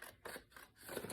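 Paper edges being trimmed with scissors, three quick close snips in a row, crisp and fairly quiet.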